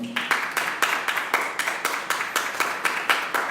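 A church congregation claps together in a steady, rhythmic beat during a sermon, each unison clap sharp and evenly spaced over the whole stretch, with no talking.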